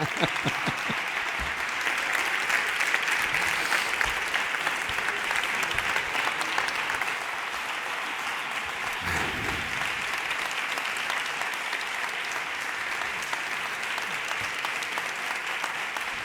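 Sustained applause from an audience at a talk, steady and dense throughout, with a brief murmur of voices partway through.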